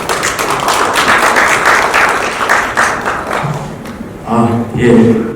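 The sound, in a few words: audience applause at a seminar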